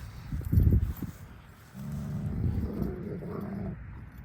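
A Kangal dog growls low and close in two rumbling bursts, the second longer and steadier, with no talking.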